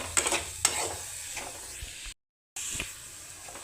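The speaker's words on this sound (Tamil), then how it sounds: "எல்லா பொடியும் சேர்ந்து கொஞ்சம் பச்சை வடை போகிற வரைக்கும் கொஞ்சம் நேரம் கொஞ்சம் வதக்கி விட்டுட்டுக்கலாம்" Spice powders for a jackfruit seed gravy are sautéed and stirred in a pan, giving soft scraping strokes over a low sizzle with a brief silent gap partway through.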